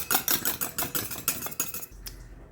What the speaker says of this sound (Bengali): পরিমাণ মতো লবণ আর হলুদ দিয়ে এটাকে এবার ভালো করে ফেটিয়ে নিতে হবে